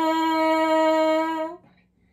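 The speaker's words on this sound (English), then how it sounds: "If we do that into the mouthpiece," A lip buzz played into a French horn mouthpiece gives a steady, harmonically rich tone. It holds at an even pitch for about a second and a half, close and clear, then stops.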